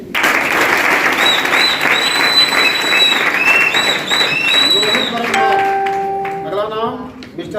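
Loud applause from a crowd fills the room, steady clapping that thins out toward the end as a few tonal sounds emerge.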